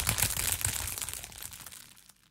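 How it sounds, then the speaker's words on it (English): Plastic crinkled up close for a sound effect, a dense crackling rustle of sharp clicks and crunches that gradually thins and fades over a couple of seconds, with no voices. "And these are just recordings of plastic that actually sound like this."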